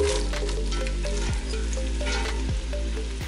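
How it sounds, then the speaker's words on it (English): Onions for French onion soup hit hot butter and oil in a pot, setting off a loud, close, sustained sizzle over a steady low rumble, with a couple of brief dips as they are moved and no speech. "Now add in your onions."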